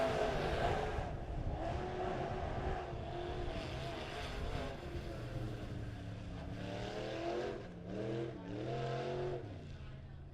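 Dirt track modified race cars, USRA B-Modifieds at Springfield Raceway, roar on the racetrack with engines revving and droning at a distance, pitch rising and falling as they circle, with a commentator's voice faintly mixed in.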